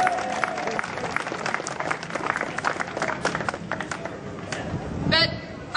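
Crowd at a Save The NHS rally in Darlington cheers and claps steadily throughout, a dense outdoor burst of applause with whoops, loud and close, swelling near the end.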